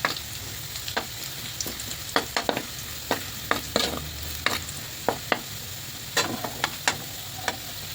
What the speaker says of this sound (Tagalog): Sigitan natin ang bawang